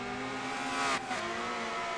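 Engine of a Honda CRX race car in Forza Motorsport 7, a steady droning whine held throughout, rising briefly to a louder harsh surge near the middle before settling back, with no talk.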